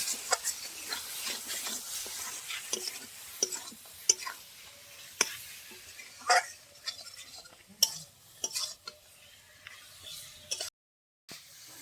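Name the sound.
stir-frying fried potatoes with spice masala in a pan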